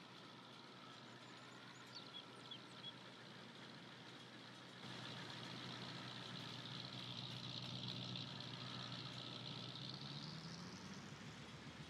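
A truck engine in the farming game Farming Simulator 22 idles steadily, then rises to a louder, fuller rumble partway through and keeps droning evenly without talk.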